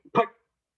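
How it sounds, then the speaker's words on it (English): A dog named Pork Chop gives a single short, sharp bark preceded by a tiny yip, close and clear, then silence. "now your dog goes crazy and starts barking"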